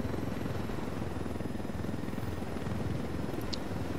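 Helicopter in the Ghost Recon Wildlands video game, a steady, close rotor drone with a low chopping pulse that holds at constant loudness throughout, with no talk.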